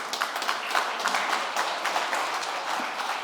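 Audience applause at a renewable energy foundation's anniversary event, a brisk, even wash of many hands clapping, moderately loud and sustained without talk.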